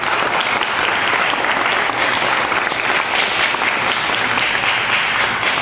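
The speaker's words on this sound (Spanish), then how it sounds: "Creo que merece un aplauso" A lecture audience gives a doctor a round of applause after his talk on urinalysis: loud, dense, sustained clapping that holds steady throughout with no voices over it.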